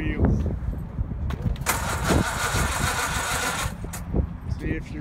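A 1928 Essex Super Six six-cylinder car engine cranks and catches, running in a steady mid-pitched idle for a few seconds, loud and close, with people talking nearby.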